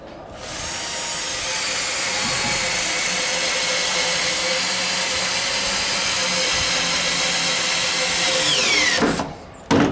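A power tool drives screws into a wall, whining loudly and steadily for several seconds close by, then cutting off with a brief clatter and a short final burst.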